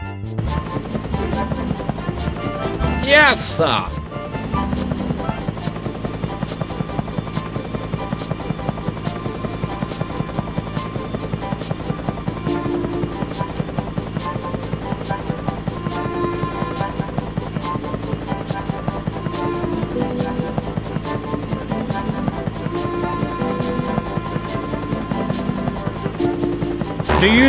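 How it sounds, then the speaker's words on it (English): A helicopter flies steadily through a Thomas and Friends video game, its rotor drone holding at an even level across the scene with game music, while a voice speaks briefly. "Fly Harold the helicopter to find him."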